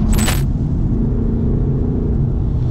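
A deep, steady engine rumble from inside a 2022 BMW 220d coupe in sport mode with amplified engine sound, low and continuous, with a brief metallic jingle at the start.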